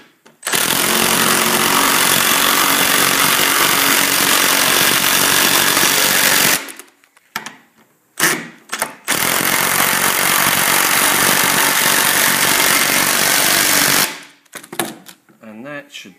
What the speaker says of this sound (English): So we just take our drill.